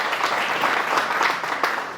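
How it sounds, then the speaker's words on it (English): An indoor audience claps for a photographer at a community event, steady dense applause from many hands at moderate loudness, continuing evenly with no voices over it. "Let's give him a big round of applause"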